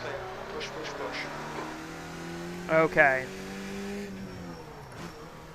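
Race car engine in the iRacing sim, a steady sustained drone held throughout with a brief louder burst near the middle, running under a short spoken word.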